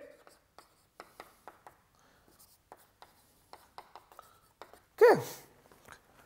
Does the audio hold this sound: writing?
yes